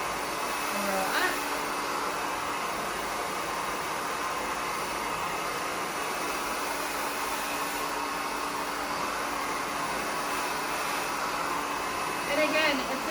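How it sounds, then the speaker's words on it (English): A blow dryer whirs steadily throughout as hair is rolled onto a brush for a volume blowout, a constant airy roar with brief rustling bursts near the start and end. "and then take your blow dryer"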